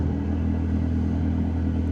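A TVS Ntorq scooter engine drones steadily while climbing uphill near Munnar, a loud, close, continuous rumble with no breaks.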